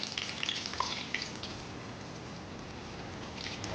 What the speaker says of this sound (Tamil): இப்போ நம்ம ஒரு பேட்டி போட்டிருக்கோம் நல்லா ஃப்ரை ஆகிற வரைக்கும் ஃப்ரை பண்ணி எடுத்து வச்சுக்கோ